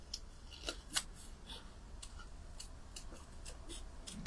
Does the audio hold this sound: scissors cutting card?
yes